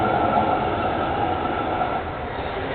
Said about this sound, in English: Let the tram go by.